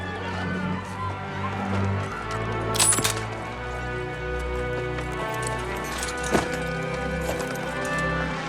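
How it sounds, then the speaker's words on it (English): Horse hooves clip-clop in a scene from the Westworld series, a steady near trotting rhythm under a dense bed of music, with a couple of sharp cracks standing out partway through. "That's the sheriff's horse, you son of a bitch."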